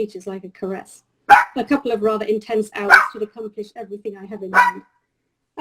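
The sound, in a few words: pet dog Henry barking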